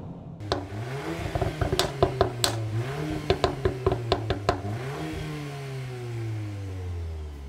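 A Revo Stage 2 tuned 8th-generation Golf R engine revs hard through several rising pulls, with sharp pops and crackles on each shift and a steady drone easing off toward the end.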